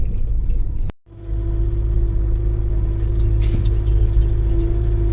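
A car driving on the rough, single-lane hill road between Haflong and Lumding in Assam, with a loud steady engine rumble and road noise, a sharp cut near the start, then faint rattles over the bumps.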